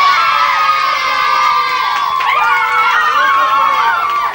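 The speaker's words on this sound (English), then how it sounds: "Right, so big round of applause." A crowd cheers and shouts loudly and continuously, with excited children's voices, at a trophy presentation for the B final of a 1989 GAA parish league.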